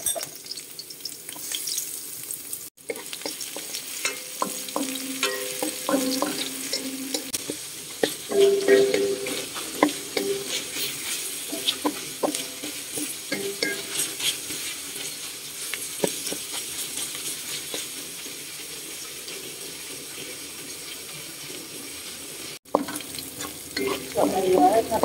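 Ground pork sizzling in oil with garlic and onion in a pan for an ampalaya dish, a steady loud frying hiss broken by scraping stirs, with no talk.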